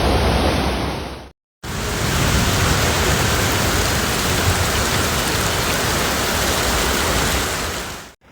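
Heavy downpour in Pearl River County, Mississippi, pounding down as a loud, dense, unbroken roar of rain during flooding, with a brief cut to silence near the start.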